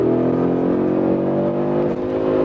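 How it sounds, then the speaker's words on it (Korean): An Audi RS 3 engine revs hard under heavy acceleration toward its 7000 rpm redline, a loud, steady, rich drone that holds throughout with a slight dip near the end. "쭉 가속을 하면 이 레드존을 터치하는 순간 7000까지 엔진 회전수를 올리면서"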